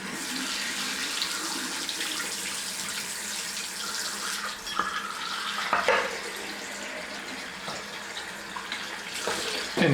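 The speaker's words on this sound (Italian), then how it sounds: "il pennello non l'ho messo a mollo e quindi lo mettiamo a mollo subito" Tap water runs steadily into a basin to soak a shaving brush for a traditional wet shave, a continuous close splashing rush with a few small clinks and knocks over it.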